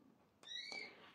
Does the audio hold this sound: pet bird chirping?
yes